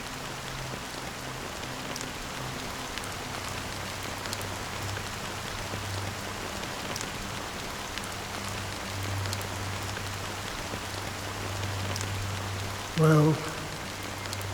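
Steady rain falls in a video game, an even wash of patter throughout with a low drone beneath, and a single spoken word near the end.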